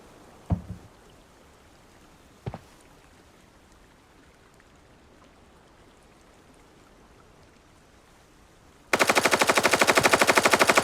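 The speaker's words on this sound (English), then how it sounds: "There's a massive firefight going on in that 2-story building ahead." Gunfire in a firefight in the video game Arena Breakout: a couple of distant single shots, then a loud rapid burst of automatic fire near the end.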